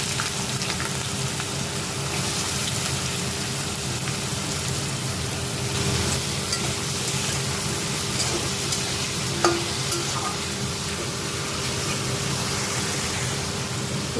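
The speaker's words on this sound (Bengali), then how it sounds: "আমি অল্প সামান্য কড়াইতে সর্ষের তেল দিলাম আর কারি পাতা নিলাম। এবার সবজিগুলো দিয়ে দিলাম। এবার একটু ভাজা ভাজা করব।" Vegetables fry in mustard oil with curry leaves in a wok, giving a steady, even sizzle throughout, with occasional faint scrapes of stirring and no voices.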